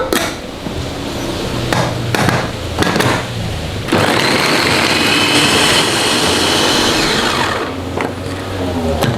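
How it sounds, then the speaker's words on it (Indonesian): An electric chopper grinds garlic for a shrimp talam dish in a few short whirring bursts, then runs in one loud, sustained motor roar for about four seconds before stopping, with a clack of the lid. "Ini kalau halusin bawang putih pakai chopper cepet banget ya"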